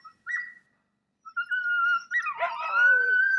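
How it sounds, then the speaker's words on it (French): Sled dogs howl in a drawn-out chorus, a short wail first, then several overlapping howls rising together, fairly close and clear. "Chaque maison dispose de son attelage de chiens."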